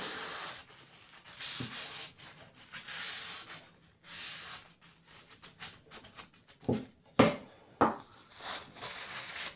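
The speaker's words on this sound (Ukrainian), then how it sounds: "Дуже добре працює синтетика по цій сталі." Close, steady rubbing strokes of a Kershaw Cryo 1555Ti folding knife with 8Cr13MoV steel drawn across a synthetic whetstone, in uneven repeated passes with a few sharper scrapes near the end.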